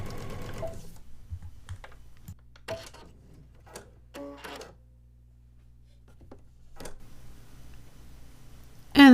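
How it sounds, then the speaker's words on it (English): A Brother sewing machine runs a straight stitch in reverse, a steady fast mechanical whir with light ticking clicks, close by and without voices, ending in a short louder knock. "And see how fast it's sewing in reverse."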